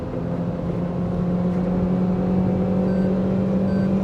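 A 2022 Toyota Glanza pulling hard through third gear past 100 near 6,000 rpm, the engine droning steadily with a rising hum inside the cabin, no talking over it.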